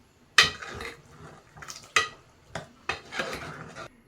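A spoon stirs a pot of papaya and taro seed curry with tamarind, giving several sharp metal clanks and scrapes against the pot at uneven intervals, close and clear with no talking.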